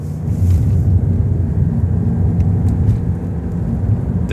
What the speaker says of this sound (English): It sounds loud and whiny when I accelerate.